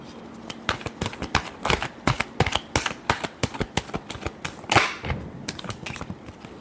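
A deck of tarot cards is riffled and shuffled close up, a quick run of crisp flicking bursts and soft slaps in uneven rhythm, with no voices.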